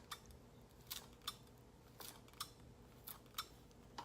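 Scissors snip fresh basil leaves into thin ribbons, making a steady series of quiet, crisp cuts about every half second, close by in a quiet room.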